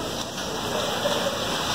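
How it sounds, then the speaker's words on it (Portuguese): Heavy rain pours outside a flooded hospital room, a steady, even rushing hiss of water that holds at the same level throughout, with no voices. "Chuva caindo lá fora e a água entrando aqui é com tudo, com força."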